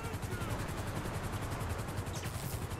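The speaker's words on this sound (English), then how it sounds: "I just ordered like 12 helicopters" A police helicopter in GTA V with the LSPDFR mod drones steadily with a pulsing low rotor thump, loud and continuous, with no voices over it.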